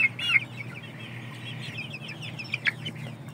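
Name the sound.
Indio Gigante and Aseel chickens clucking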